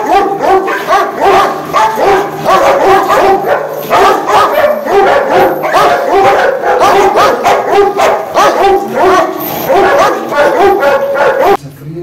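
A dog barks and yips rapidly and loudly, close by, in an almost continuous excited stream with brief whimpers mixed in.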